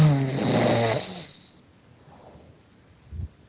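A person snoring over a Skype call, one long rasping inhaled snore that trails off, followed by quiet breathing and a short snort, close and fairly loud, with no talking.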